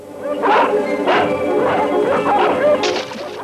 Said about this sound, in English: The developers have deliberately let wild dogs loose in the woods to try and chase out all the wildlife.